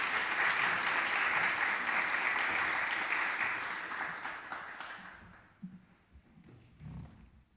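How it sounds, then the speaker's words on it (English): Sustained crowd applause, loud and dense for about five seconds, then tapering off into scattered claps and quiet room noise. "Give a round of applause to our panelists"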